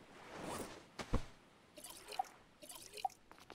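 Water trickling and dripping into a flask in the survival game Stranded Deep, a soft watery pour broken by a few small drips and splashy blips, fairly quiet and with no talking.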